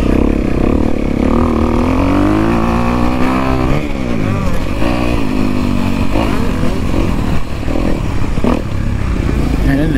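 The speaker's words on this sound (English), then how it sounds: "The bike fired up good." A motorcycle engine idles and burbles steadily just after starting, close and loud throughout with small throttle changes in pitch, and someone talks briefly over it.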